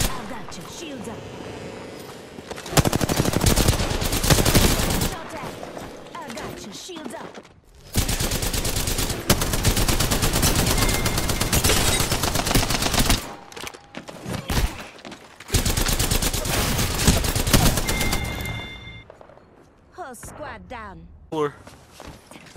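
Rapid bursts of video game gunfire, machine-gun fusillades in three long loud stretches separated by short pauses, mixed with footsteps, while a voice speaks between the shooting.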